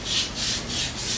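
Light rubbing of astringent across freshly shaved facial skin, four soft, even swishing strokes in a steady back-and-forth rhythm, close and gentle with no voice over it.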